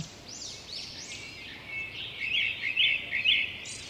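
A small bird chirps and twitters in a rapid, bright series of tweets that grow busier and louder toward the end, used as a story sound effect in a Hindi tale of a sparrow nesting in a tree.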